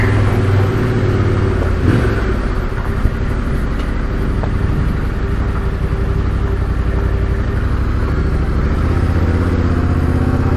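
Adventure motorcycles idle in a car park, a steady low engine rumble with occasional clatter, close and constant throughout.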